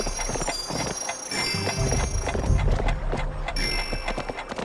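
In the Barbie Horse Adventures video game, a horse's hooves clip-clop along a forest trail, a steady, rhythmic hoofbeat at close range over a light game soundtrack, with no voices.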